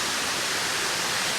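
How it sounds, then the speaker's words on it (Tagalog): Steady, dense roar of falling water at Taktak Falls in Antipolo, a continuous broadband rush that fills the scene evenly with no pauses and no voices. "Medyo maingay pa rin yung tubig niya hanggang ngayon."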